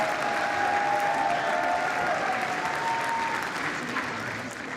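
Sustained applause from House members filling the chamber during the Speaker vote for McCarthy, a dense steady wash of clapping that fades slightly toward the end, with faint voices mixed in.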